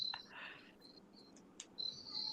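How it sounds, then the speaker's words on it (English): Crickets chirp outdoors in short, high, repeated bursts, with a few brief louder calls standing out against a quiet background. "What you're hearing is yes, indeed, crickets."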